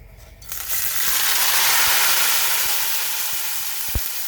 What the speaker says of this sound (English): So I'll hold from here and push my omena slowly from this end to this end.